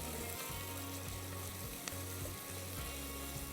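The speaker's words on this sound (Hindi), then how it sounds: "प्याज ये फ्राई हो रही है।" Sliced onions frying toward golden in a pan for a kabab karahi, a steady close sizzle with no one talking.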